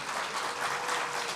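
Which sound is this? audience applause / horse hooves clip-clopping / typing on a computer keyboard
audience applause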